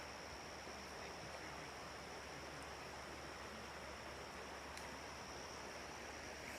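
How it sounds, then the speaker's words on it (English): Steady rushing water from a flowing stream along the Appalachian Trail, a continuous even hiss and burble heard alone at a moderate distance. "And the stream that we were following down cuts in right here."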